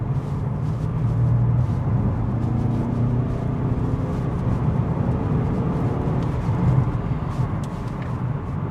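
A first-generation Porsche Panamera 4S V8 is heard from inside while driving, a steady, deep engine and exhaust drone rumbling continuously with road noise.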